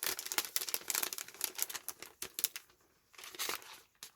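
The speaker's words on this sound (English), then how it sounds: "so let's cut that bit off" Scissors cut through a piece of clear plastic packaging, making a quick run of crisp, close snipping and crinkling sounds followed by a brief pause and a few more cuts.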